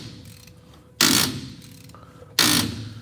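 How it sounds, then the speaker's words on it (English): A ratchet clicks through two sharp, loud bursts as it turns the brake S-cam on a truck, each burst a dense run of pawl clicks, with quieter mechanical rattling in between. "Wait till I ratchet some more."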